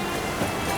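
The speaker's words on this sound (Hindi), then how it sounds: "अचानक बारिश?" Sudden rain pours down in a steady, dense hiss of drops striking surfaces, loud and continuous throughout the brief moment with no voices.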